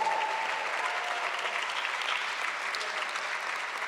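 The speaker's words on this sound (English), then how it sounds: "Let's give our assistant coaches a loving round of applause." A crowd at a Saturday morning forum gives steady, full applause for the assistant coaches, continuous and evenly loud from start to finish with no talk over it.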